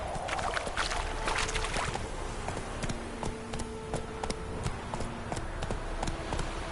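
Roach the horse gallops in The Witcher 3 video game, hooves thudding in a quick, rhythmic clip-clop close by over a steady outdoor background.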